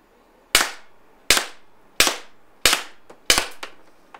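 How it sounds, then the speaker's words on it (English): A RAM combat pistol fires mini breaker balls into magazines, five sharp, close, evenly spaced shots about three-quarters of a second apart. Each one is a crisp report with a short decay, and small clicks follow the last shots. "so we did 5 shots"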